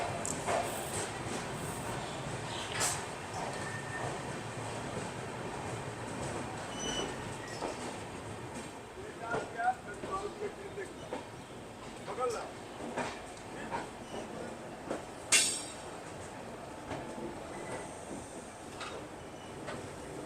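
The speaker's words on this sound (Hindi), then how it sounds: "अपने निर्धारित समय से 4 मिनट की देरी से अपनी ट्रेन निकल चुकी है गोरखपुर रेलवे स्टेशन से" The Gorakhpur LTT Express rolls out of Gorakhpur Junction. A steady low rumble of the moving train carries faint wheel clicks and occasional metallic squeals and knocks, with muffled voices underneath.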